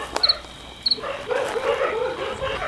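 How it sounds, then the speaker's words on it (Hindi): Dogs close by give a few short sharp barks, then whine and yelp more steadily, nearby and moderately loud, with no talking. "इतने पास से हमें कुत्तों की आवाजें आई।"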